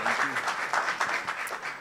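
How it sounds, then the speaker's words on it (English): Audience applause for an award winner at a university research week event, a brief burst of clapping with some voices mixed in, moderately loud and fairly close. "You can clap hands for him as he goes down."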